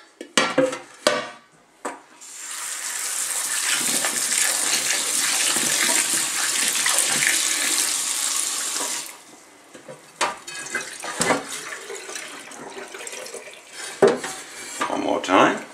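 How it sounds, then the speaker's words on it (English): Tap water runs steadily for several seconds to rinse drained pickled onions, with light clatters and knocks of a container before and after the flow. "And I'm going to rinse them twice."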